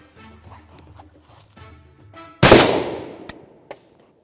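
A suppressed .50 BMG rifle firing an MK211 round: one loud, heavy shot that trails off over about a second, followed by two short sharp clanks, after quieter low handling noises.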